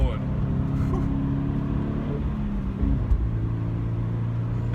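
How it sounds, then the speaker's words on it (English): A 2019 Toyota GT86 engine during heel-toe downshifts on a mountain road, with a steady in-cabin drone and a brief rise in revs. Tonal and continuous throughout, with no clear separate blips. "Because if you don't heel and toe in this car, the downshift will be really sloppy."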